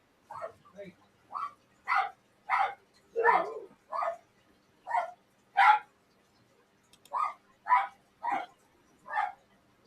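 A dog barks angrily somewhere in the background, about a dozen sharp, spaced barks in an irregular rhythm over roughly ten seconds, moderately loud and alone.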